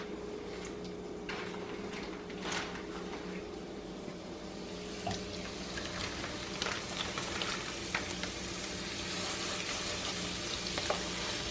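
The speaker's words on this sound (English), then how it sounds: "fry them skin side down for about 5 minutes" Chicken pieces fry skin side down over high heat in a pan for bourbon chicken, giving a steady, moderately loud sizzle and crackle throughout with a few sharper pops and no talking.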